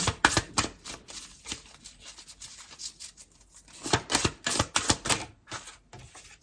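Tarot cards drawn from a deck and laid on a table: a string of quick, close papery snaps and slides in uneven bursts, with short pauses between handfuls.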